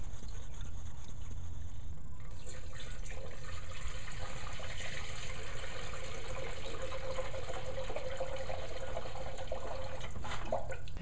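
Coolant streams steadily out of an open bleeder on a car's cooling system while it is being refilled and bled, a continuous close liquid gush and splash that runs alone for about eleven seconds without a break.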